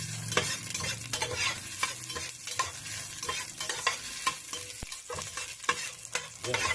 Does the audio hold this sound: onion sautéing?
yes